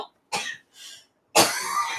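Two short bursts of coughing and throat clearing, close and fairly loud, are followed by a longer, harsher, noisier burst that stretches to the end.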